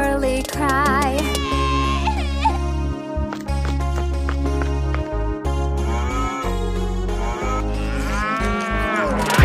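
Cow mooing within a children's nursery rhyme song, repeated long moos over a bouncy musical accompaniment with steady beats.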